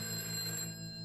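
Telephone ringing in the video game A Way Out, a brief electronic ring with steady sustained tones that fades near the end, quiet and without talking.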